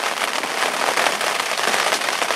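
Heavy winter rain at a fishing spot, a dense, steady patter drumming on a surface nearby, loud and continuous with no speech.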